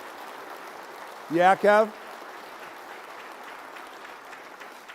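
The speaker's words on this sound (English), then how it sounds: "How about a round of applause for our friend Mary Beth?" Applause from a culinary awards audience in Chicago, a soft sustained patter of many hands, broken briefly by two short spoken words.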